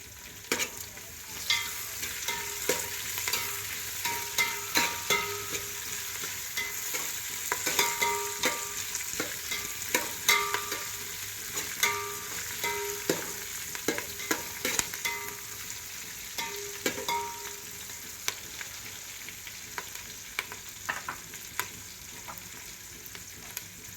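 Cumin, curry leaves and garam masala sizzle steadily in hot oil in a pan while a spoon scrapes and stirs with frequent sharp clicks, close and fairly loud, with no talking.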